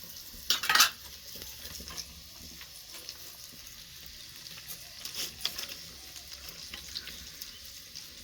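Onions tossed into a pan for a fried egg on a small mini stove give a brief sizzling burst near the start, then settle into a faint, steady fry with light stirring scrapes.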